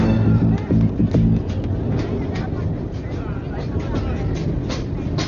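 A train in a Telugu comedy film scene rumbles steadily with low mechanical clatter, with voices heard over it.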